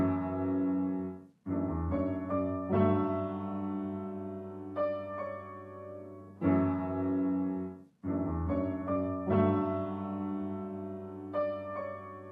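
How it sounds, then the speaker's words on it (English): Vintage upright piano sample from an SSS preset playing a slow, simple soul chord pattern, sustained chords ringing out with two brief pauses between phrases, clean and close with no talking. "it's just this piano right here"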